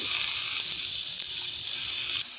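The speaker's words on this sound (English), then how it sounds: "as the King Oyster mushroom cooks a little" King Oyster mushrooms sizzle steadily in a hot pan, a bright, even frying hiss that holds at a constant level for a couple of seconds before easing slightly at the end.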